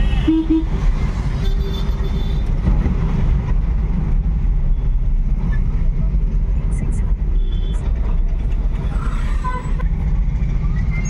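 Congested road traffic on the route toward Ananthanagar junction at school closing time, a steady loud rumble of engines with occasional horn toots, heard from a three-wheeler Porter cargo vehicle, with voices faintly mixed in.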